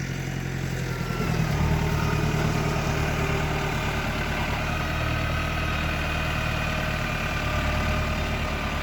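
A Massey Ferguson 5450 tractor engine runs steadily nearby, a loud, continuous low diesel rumble with a slight shift in pitch early on, and no voices over it.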